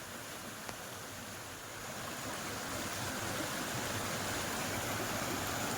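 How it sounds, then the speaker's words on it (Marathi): Steady rushing water pouring from a cow-mouth stone spout, a constant broadband hiss, swelling slightly louder after the first couple of seconds, no voices. "गोमुखाच्या तोंडातून पाणी पडते"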